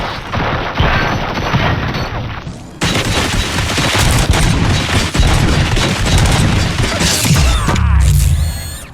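Sustained gunfire in the first-person shooter RoboCop: Rogue City, a dense loud barrage of booming shots and mechanical clatter running nearly continuously for the whole stretch with a brief break early on.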